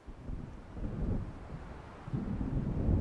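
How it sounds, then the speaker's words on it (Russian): Low rumbling thunder of an approaching storm in the video game Alan Wake, a rolling deep swell that builds and recedes over a few seconds, with no voices. "Похоже, надвигается буря."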